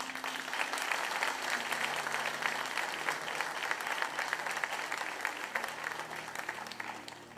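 A church congregation applauds during a sermon, a steady, full sheet of clapping from many people in a large room that holds evenly for several seconds before easing slightly at the end.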